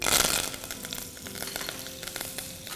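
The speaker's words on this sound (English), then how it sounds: "The oil is gone hot, add the curry leaves" Curry leaves sizzle in hot oil for a mutton curry, a loud, dense, continuous frying hiss that holds steady throughout.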